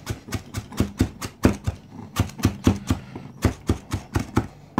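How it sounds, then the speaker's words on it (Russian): Fresh dill is chopped by hand with a knife on a board, giving a steady run of sharp, close knocks in quick bursts with short pauses between them, and no voices. "мелко нарубаем. Можно на блендере, я предпочитаю вручную"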